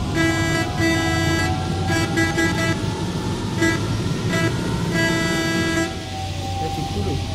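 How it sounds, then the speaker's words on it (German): Horn of a Mercedes-Benz Citaro city bus in the OMSI bus simulator, sounding in several short repeated toots of differing length over a steady engine drone, loud and close. "Sieht realistischer als die Standard-Hupe."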